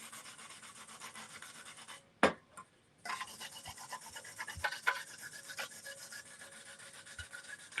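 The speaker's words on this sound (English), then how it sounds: "And when I'm done sanding this" Sandpaper scrubbing a Dollar Tree plastic pumpkin for texture, a close rhythmic rasping in quick strokes, broken by a short pause and a couple of knocks before the steady scraping resumes, with no talking.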